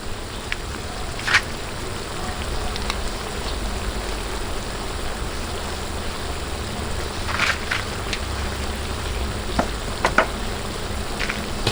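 Seafood boil sauce, seasoned with cayenne pepper and chili powder, being mixed in a pan while cooking outdoors, giving a steady, even sizzle throughout with a few brief clinks and scrapes and no talking.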